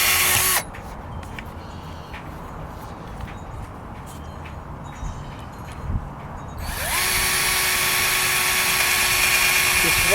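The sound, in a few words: Black + Decker combo drill running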